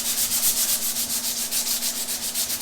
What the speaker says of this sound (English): You can see where I'm going to sand here.